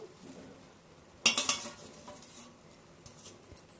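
A metal utensil clatters briefly against a cooking pot as mint leaves are mixed into mushroom dum biryani with ghee, a short burst of clinks amid quiet.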